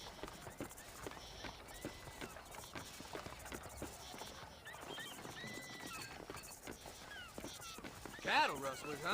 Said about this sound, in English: You see those horses to the left by the building across the street?